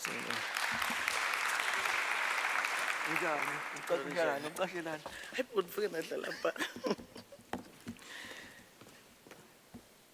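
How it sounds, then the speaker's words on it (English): An audience at a fraud awareness seminar gives a round of applause, a dense sustained clapping that tapers off into scattered claps, with a speaker's voice starting over it. "Give a round of applause."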